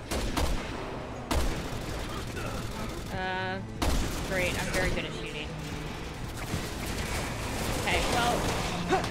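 Rapid gunfire from the Resident Evil 6 video game rattles in short bursts and single shots, mixed with game effects and people talking over it.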